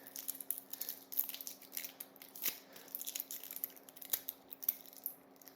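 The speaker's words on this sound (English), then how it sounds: "I'll take the sticker off, that'll be satisfying, maybe." Sticker being peeled off a LISEN electric suction MagSafe car phone mount, giving faint crinkly crackles and a few sharp ticks close by, without talk.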